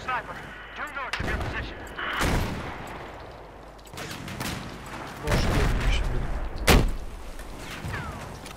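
Battlefield 4 game combat with a run of sharp gunshots and heavy booming explosions, several loud blasts spread through the clip over a steady background rumble, with faint voices now and then.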